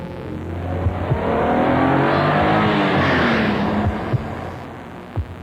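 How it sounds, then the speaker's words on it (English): Steady engine drone of a 1990 Acura Legend with a 24-valve V6, rising and falling smoothly as it revs, fairly loud and continuous with a few faint thumps on top and no talking. "The 1990 Acura Legend features a 24-valve V6 engine."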